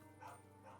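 A dog in the medieval game Kingdom Come: Deliverance gives two quick barks in close succession, fairly close and clear over a low steady background hum.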